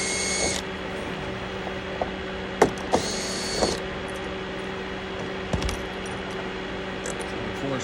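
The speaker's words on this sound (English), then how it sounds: "Gonna pop these screws out that hold the cover on." Screws being backed out of the cover on a Coleman Mach 8 A/C control box, giving a few sharp metallic clicks and ticks over a steady electrical hum, close and isolated.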